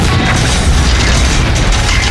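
A tanker truck erupts in a massive explosion, a loud, sustained roaring boom that fills the whole short stretch without letup.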